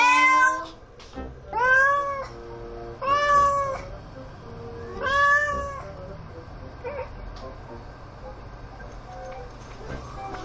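A cat meows loudly several times in drawn-out, wavering cries, close by, then quieter sounds and faint background noise follow.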